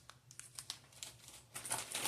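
A plastic bag holding a micro SD card and small wrenches for a 3D printer unboxing crinkles faintly and close up, in irregular rustles that grow busier near the end.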